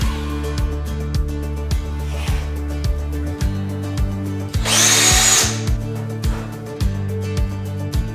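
A power drill bores a hole in wood for a ceiling light fitting, its motor revving in repeated short pulses close by, with one louder grinding burst midway.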